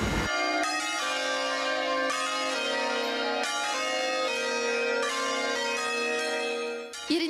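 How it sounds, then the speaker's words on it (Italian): Restored church bells peal in the town square of Resana, a series of loud, resonant strikes whose rich ringing overlaps and sustains continuously, with no talking. "I rintocchi in mezzo alla piazza,"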